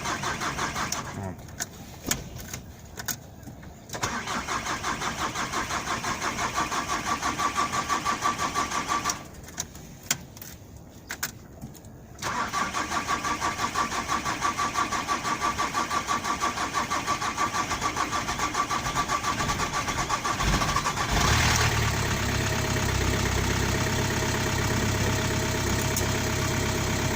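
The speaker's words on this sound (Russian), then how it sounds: "запуск на холодную вот происходит таким вот образом." Cold start of a Volkswagen Transporter T5 diesel with a fuel-return fault: repeated cranking attempts with brief pauses, then the engine catches and settles into a loud, knocking idle close by.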